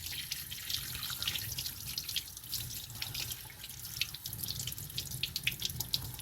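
A cleaned trout is rinsed under a running tap, a steady splashing stream of water hitting the fish and sink with small irregular drips and spatters, close and continuous with no talking.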